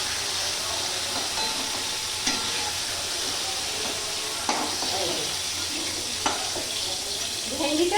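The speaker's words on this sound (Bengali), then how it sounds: "ভেন্ডিটা আগে এভাবে একটু ভেজে নেব, ভেজে সরিয়ে নেব।" Okra frying in hot oil in a pan gives a loud, steady sizzle throughout, with a few soft clicks from stirring.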